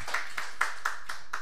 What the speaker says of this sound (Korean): 우리 박수 좀 한번 쳐드려요.